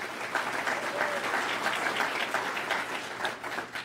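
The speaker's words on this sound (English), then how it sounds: "Give them a round of applause, please." A crowd at a civic event in Surrey, BC applauds a presenting sponsor, a continuous wash of clapping at moderate, even loudness with no pause.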